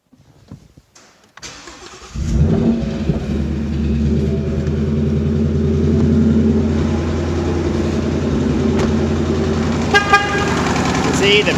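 A 2019 Whipple-supercharged Mustang GT engine with rod knock cranks and catches, then idles steadily and loud with a persistent rumble and faint ticking; a voice is briefly heard.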